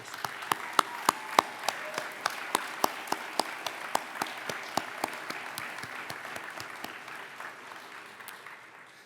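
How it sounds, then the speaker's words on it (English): A convocation audience applauds steadily, with sharp individual claps standing out over a continuous wash of crowd clapping that holds for several seconds before tapering slightly. "So why don't we give everyone who was involved in planning for today's event a round of applause."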